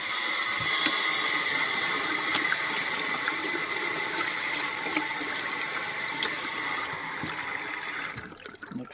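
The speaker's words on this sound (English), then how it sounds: "Let's just check the bathroom faucets." Water runs hard from an RV bathroom faucet fed through a compact Blu Tech R3 Elite filter system, a loud steady hiss that drops off sharply near the end, with no talking.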